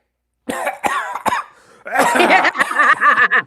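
Several sharp coughs in quick succession, then a pause and a burst of coughing mixed with spluttering, close and loud.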